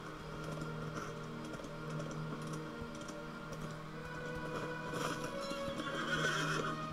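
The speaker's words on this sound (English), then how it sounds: "Riding a war steed around the inside of Helm's Deep sounds like a bad idea." A war steed neighs in a Middle-earth video game at Helm's Deep, its whinny rising over a busy game soundscape with hoof clops and ambient layers, steady and fairly loud throughout.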